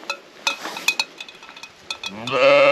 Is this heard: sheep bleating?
yes